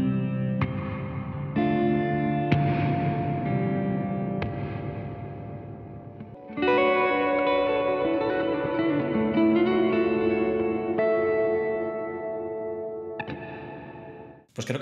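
An electric guitar runs through a Walrus Audio Fundamental Series reverb pedal, playing sustained chords that ring out and blend into a long, washy reverb tail, loud and close, with a pause mid-way and no talking.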